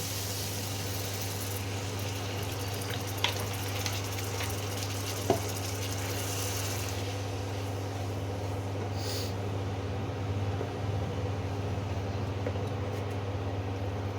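Water poured into hot frying oil in a pan while cooking chhana kalia sets off a steady sizzling hiss with scattered crackles and pops, fairly quiet and continuous, over a low electrical hum.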